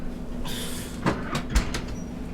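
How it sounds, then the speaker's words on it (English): A cabinet door swung shut during an exercise session, several dull knocks and a rolling slide close by, over a low steady hum with no talk. "you can get the door, close the door back up"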